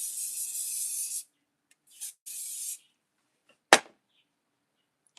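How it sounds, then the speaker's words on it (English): Hair spray hisses from a can onto hair during styling: one long spray, then two shorter bursts, close and crisp, followed by a sharp click and quiet. "Go in with your whole spray."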